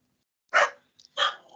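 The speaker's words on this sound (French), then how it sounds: "Désolée pour la chienne." A female dog barks twice, sharp and fairly close, inside the granite Barabar caves in India, with near silence between the two barks and a short echoing tail.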